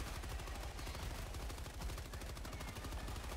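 Rapid sustained machine gun fire in the co-op shooter Helldivers, a dense continuous rattle of shots at steady loudness throughout with no pauses.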